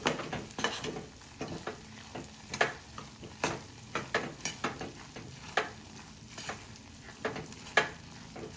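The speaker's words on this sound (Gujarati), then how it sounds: "હવે બધી વસ્તુને પ્રોપર એકદમ કરી દેશું મિક્સ." Katlu powder ladoo mixture being stirred in a pan, heard as a steady run of dry scraping and scuffing strokes at an irregular rhythm, close and moderately loud, with no talking.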